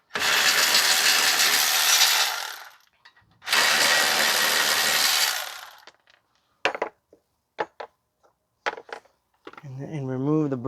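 Ratchet loosening brake bracket bolts on a 2020 Honda CR-V 1.5 front brake: two long, loud bursts of rapid clicking up close, followed by scattered metallic clinks and a brief voice at the end.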